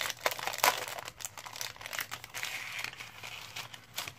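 Crinkly paper and plastic wrapping on a pack of beige and brown spring foliage craft paper being pulled open, close and fairly quiet, with irregular rustles, crumples and small tearing sounds throughout.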